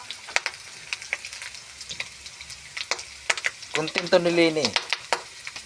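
Corn rice frying in a pan while a spatula stirs it, crackling sizzle under intermittent scraping clatters that grow busier toward the end, with someone speaking briefly over the cooking.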